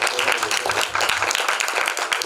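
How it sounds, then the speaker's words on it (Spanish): Audience applause breaks out at the close of a panel session, a dense, steady wash of many hands clapping at close range for a couple of seconds. "Un aplauso, por favor."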